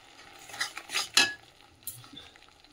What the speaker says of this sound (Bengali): দিয়ে চলো মশলাটা যে ভালো করে কষিয়ে নিই।